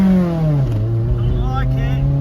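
A 1999 Honda CR-V with a swapped B18 VTEC engine and stage 4 clutch launches hard, its loud engine note dropping then climbing steadily in revs, close and dominant throughout.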